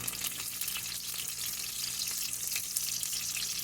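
Steak fries in beef tallow, a soft continuous sizzle and spatter heard fairly close but at low volume, steady throughout with no talk.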